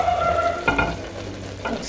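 Smoked mackerel being stirred into keto mpotompoto in a pot, a soft scraping and bubbling stir with a faint sizzle, close and continuous with a few louder scrapes.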